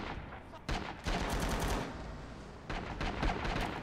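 Gunfire in the video game Rising Storm, fought through tight corridors: rapid automatic bursts crackle in dense volleys, a sudden onset followed by sustained firing, a short lull, then another burst, loud and close.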